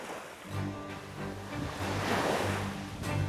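Ocean waves washing and surging nearby, a soft rolling rush of surf with a low engine-like hum underneath.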